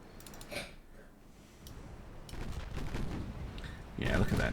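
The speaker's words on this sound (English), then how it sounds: "You can return fire when ready." Naval 6-inch guns fire in a video game battle, with several booming shots and bursts scattered across the moment at moderate loudness, the heaviest blast coming at the end.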